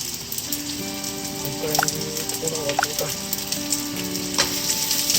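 Onions fry in a pan for beef burgers on a low flame, giving a steady, fairly quiet sizzle with a few faint clinks and stirring sounds throughout.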